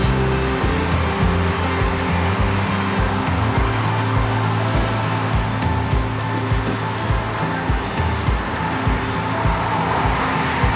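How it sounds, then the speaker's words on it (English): Traffic murmurs in the distance outside an Outer Banks beach house, a continuous low rumble of passing cars blended with a steady wash of surf, with no one speaking. "A little bit of traffic noise this time of the day"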